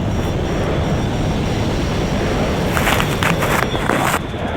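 A MiG-29 fighter jet in a video game gives off a steady, broadband jet roar, loud and continuous, with a brief gusty surge toward the end.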